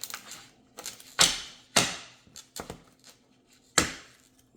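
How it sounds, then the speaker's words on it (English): Tarot cards are shuffled in several quick riffling bursts, each a sharp, close papery clatter separated by short pauses, with no talking. "I'm going to shuffle some more."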